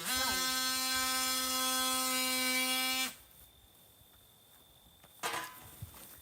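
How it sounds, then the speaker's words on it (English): Oscillating multi-tool running with a loud, steady high-pitched buzz for about three seconds, then cutting off abruptly, followed by quiet room tone and a brief faint clatter. "Oscillating tool. The oscillator was running."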